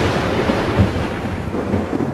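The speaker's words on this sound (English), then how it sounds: "Thunderstorm comes" Thunder from a thunderstorm over Kuala Lumpur, a loud, steady low rumble with rain-like hiss that carries through the whole stretch, with no voices.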